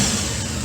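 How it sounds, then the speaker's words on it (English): A new motorcycle engine revs in a short, loud, steady burst of rough mechanical roar, with no talking. "the cool thing is that you hear it in the engine"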